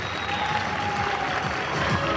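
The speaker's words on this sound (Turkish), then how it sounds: "Daha coşkulu alkışlar." Applause for the goalkeeper of Sultangazi Spor at the club's season-opening event, a steady dense wash of clapping from the audience held at an even level throughout, with no speech over it.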